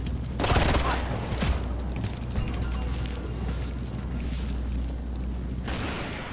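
Sharp near-simultaneous gunshots from Ghost Recon Future Soldier ring out in a loud volley at the start, then a low rumbling game ambience with a later single crack.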